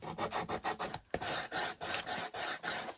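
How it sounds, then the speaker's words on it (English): A finger sander rasps along the edges of a wooden rag flag in short repeated strokes, about ten bursts in three seconds with a brief gap near the middle, close and fairly loud. "now I'm just going to go around the edges with this, my finger sander."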